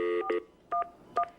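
Telephone touch-tone dialing: three short DTMF beeps in quick succession, clear and isolated against a quiet background.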